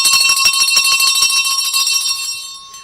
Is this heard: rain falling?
no